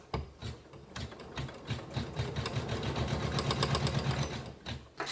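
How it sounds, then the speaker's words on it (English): A ScanNCut embroidery machine stitches a split-letter W appliqué, its needle chattering in a fast, steady mechanical rhythm that builds slightly in loudness and runs close and alone. "I'm just going to load this back into the machine and hopefully carry on stitching."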